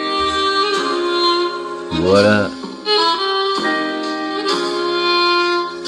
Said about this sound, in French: C'est un groupe de jazz polonais.